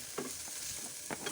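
Onions and boiled ingredients such as carrot fry in a pan for chicken soup noodles, a constant sizzling hiss broken by a few soft scraping stirs.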